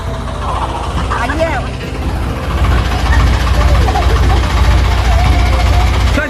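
A motorbike engine running close by, a low rumbling idle that grows louder and steadier partway through, with people talking over it.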